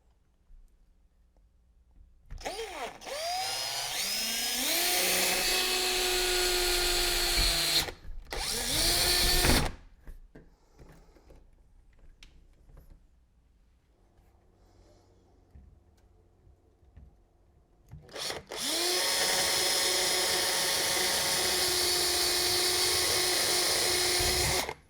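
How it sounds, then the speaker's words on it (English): A power drill boring a hole through a door to fit a Tinyuet electronic keypad lock, loud and close, running in two long bursts with a quiet pause between them and a short stop midway. "So I'm going to drill that hole now."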